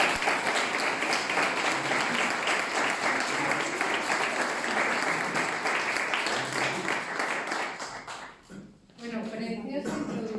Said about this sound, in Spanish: pido para ella, desde ya, un fuerte y cariñoso aplauso